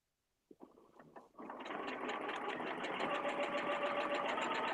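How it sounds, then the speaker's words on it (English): Home sewing machine starting slowly with a few tentative stitches, then running steadily in a continuous whirring, close and fairly loud with no talking. "I'll just sew right down to the other side."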